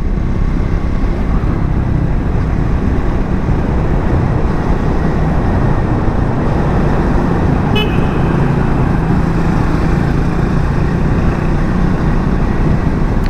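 Vehicles driving through the Kashedi tunnel on the Mumbai-Goa highway fill the space with a loud, steady roar that echoes without a break. A brief horn-like toot cuts through partway, and no one speaks.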